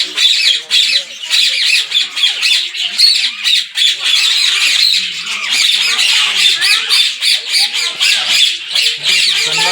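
Parrots in an enclosure at Kurumbapatti zoo in Salem, squawking loudly and continuously in harsh overlapping bursts, close by and without pause throughout.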